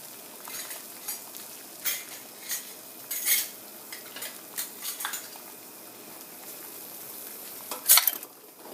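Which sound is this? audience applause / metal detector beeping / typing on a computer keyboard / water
water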